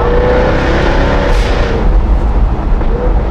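A Jaguar F-Type R supercar drives along a small country road during a braking test. Its engine and tyre noise form a loud, close, continuous roar, with a short rise in pitch near the middle.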